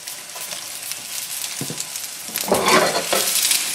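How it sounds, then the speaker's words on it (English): Chicken qeema parathas sizzle in a tablespoon of oil in a pan, a soft, steady frying hiss with a few brief louder crackles toward the end. "I'm going to fry these parathas from each side until they're a nice golden brown"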